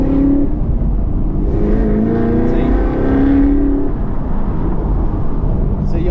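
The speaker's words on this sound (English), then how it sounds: "Y'all can hear the whine just a little bit better than you could a stock Zl1 1Le" Modified Chevrolet Camaro ZL1 1LE with a supercharger, driving with a steady, loud engine drone and a faint high whine on top, heard from inside the car throughout.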